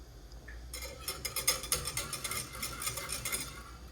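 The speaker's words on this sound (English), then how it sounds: "y'all don't need to watch me stir gravy" Gravy being stirred in a pan on the stove, a spoon scraping and tapping against the metal in quick rhythmic strokes over a faint sizzle, close and steady, no talking.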